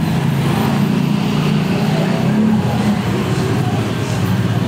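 Motorcycles speeding past on a road, heard from the roadside as a continuous loud engine drone that swells and fades slightly, with no clear talking.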